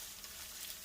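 Steady sizzling of peppers and onion sautéing in a hot frying pan, a constant crackling hiss without talk.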